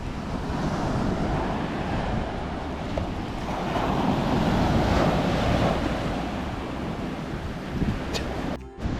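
Ocean waves wash onto a secluded beach in Baja, a steady close roar of surf that swells louder midway, with wind buffeting the microphone and no voices.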